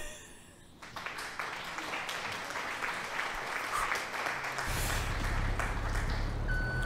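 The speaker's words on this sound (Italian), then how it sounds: "E qua ci scatta l'applauso" Dense crowd applause rises and carries on steadily for several seconds, moderately loud with a low rumble beneath it in the second half.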